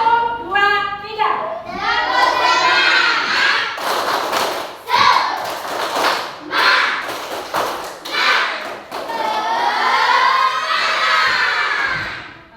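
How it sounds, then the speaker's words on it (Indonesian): Children in a classroom perform a rhythmic spirit clap, sharp patterned claps in bursts, mixed with loud cheering and shouting voices, close and lively throughout. "Yuk kita tepuk semangat sekarang."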